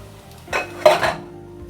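Sauce stirred into the seasoning mix for Cameroonian chicken DG, a short burst of scraping and clinking as a spoon works through the wet mixture in a pot, close and moderately loud, with no talking.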